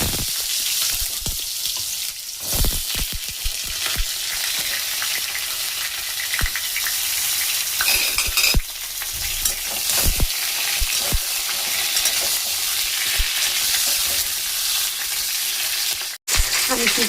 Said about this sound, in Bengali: তারপরে আমি বেগুন ভাজবো